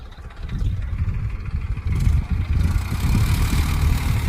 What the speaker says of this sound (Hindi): ये आ रहे ट्रैक्टर